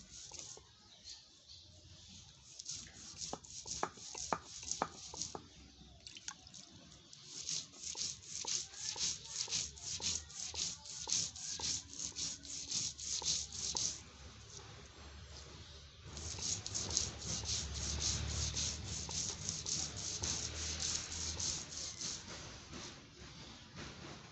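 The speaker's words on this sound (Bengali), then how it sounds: "চাউলটাকে আমি বেটে নিচ্ছি আস্তে আস্তে করে" Rice being ground by hand on a stone slab for chitol pitha makes soft, repeated gritty rubbing and scraping strokes, close and fairly quiet, with a steadier stretch of grinding toward the end.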